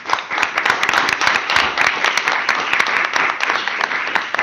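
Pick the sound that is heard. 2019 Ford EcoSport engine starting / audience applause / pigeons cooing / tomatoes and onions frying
audience applause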